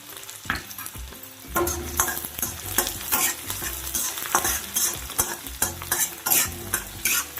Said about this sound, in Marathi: हे चांगले परतवायचे